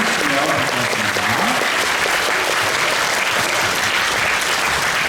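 A theatre audience claps loudly and continuously for the Brahms musical cast and writer, a dense even wash of applause with a voice talking underneath early on.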